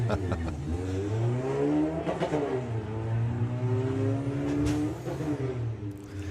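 An Audi drag race car with no number plate launches and accelerates hard down the Santa Pod strip during qualifying, its engine rising through loud gear-change sweeps. Tire noise and crowd ambience sit underneath.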